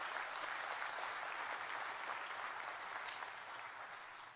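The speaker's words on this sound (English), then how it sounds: "So please give them a big round of applause." Sustained crowd applause for the Brevard Pipes and Drums at a Brevard County Sheriff's Office awards ceremony, a dense, even wash of clapping that holds steady and tapers slightly at the end.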